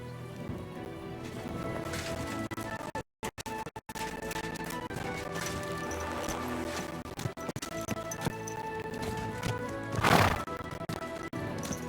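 A horse in the video game Kingdom Come: Deliverance II whinnies amid steady clip-clopping hooves, with a rain-like hiss throughout and a louder neigh near the end.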